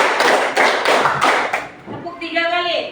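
Students in a classroom clap in unison on command, four or five sharp, loud group clap bursts in a steady rhythm, then a voice speaks alone.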